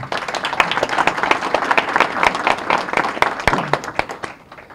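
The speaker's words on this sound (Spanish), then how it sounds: "yo pido otra vez para el señor cónsul, el honorable don Eligio Jaques, otro aplauso, por favor" Audience applause for a consul at a Dominican diaspora 60th anniversary event in New York, with individual sharp claps standing out in a lively, uneven round that fades toward the end.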